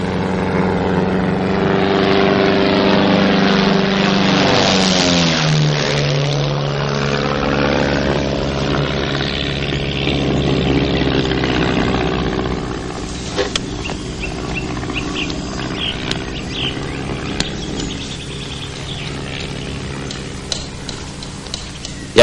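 A propeller aircraft flies overhead, its drone loud and close as it passes with a clear pitch sweep, then fading into a lighter background with scattered small knocks.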